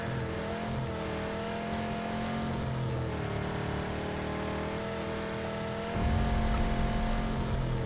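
A car engine in the PUBG game drones steadily and loudly throughout, with a rising rev near the end.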